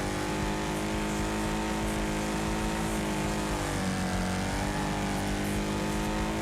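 A race car engine in a racing video game whines steadily at high revs, with a pitch dip and recovery midway as the car shifts or slows, loud and continuous.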